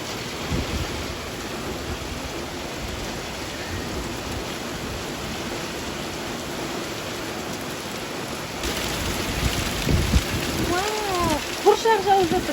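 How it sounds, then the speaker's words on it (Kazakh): Hail falling with heavy rain and thunder over a garden plot with tomato plants, a dense steady roar of pelting drops, growing slightly louder toward the end, with a voice speaking briefly late on. "Бұршақ жауып жатыр."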